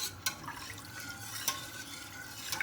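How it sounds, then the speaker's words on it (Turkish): A wire whisk stirs milk pudding (sütlaç) in a pot as it nears the boil, making a soft liquid swishing with a few sharper clinks of metal against the pot, faint and without talk. "tel çırpıcımızla şu şekilde karıştıralım"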